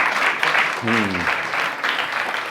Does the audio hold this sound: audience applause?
yes